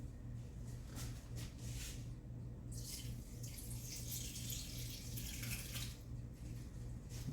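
Marinade fluid drains off strips of beef jerky being loaded into a dehydrator, a faint trickling, splashing pour that grows and then tapers off, with no talking.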